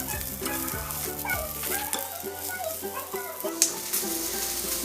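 Sausages sizzle and get rolled around in a frying pan, a light crackle under bright voices talking over the cooking.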